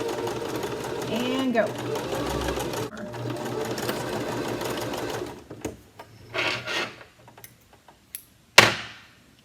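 A sewing machine stitches an upcycled t-shirt in rapid, steady bursts, running continuously for a few seconds. Close and fairly loud, with someone talking over it before it stops, followed by a few short handling noises and a sharp click.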